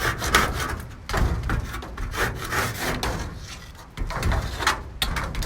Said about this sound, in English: I'm just scraping it now just to get any shit that's on there.